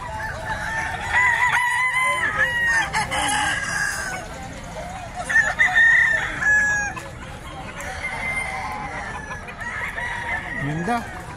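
Roosters crow again and again at a pet market in Bocaue, several calls overlapping, with clucking hens and faint voices in the background.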